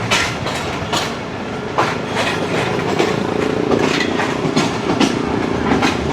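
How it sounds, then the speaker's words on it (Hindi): The Pak Business Express train approaches Digri Road junction in Pakistan, its loud, steady rumble joined by rhythmic clickety-clack of wheels over rail joints, close and continuous. "ठीक 2:17 पे डिगरोड जंक्शन अप्रोचिंग कर रही है 34 डाउन पार्क बिजनेस एक्सप्रेस।"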